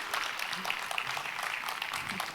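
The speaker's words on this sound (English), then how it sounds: "let's give a big round of applause" An audience claps steadily in a dense, continuous patter after an XR conference talk at ICNX 2025, sustained applause from a moderate distance.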